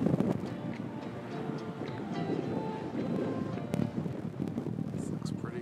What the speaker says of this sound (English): Wind is crosswind. Oh, man, the wind just ate it up.